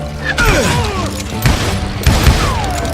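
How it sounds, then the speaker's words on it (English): Dense, chaotic gunfire from the video game Call of Juarez: Gunslinger, with booming shots and thuds overlapping in a loud battle and faint voices mixed in. "Sounds like Garrett hired a whole regiment of hired guns"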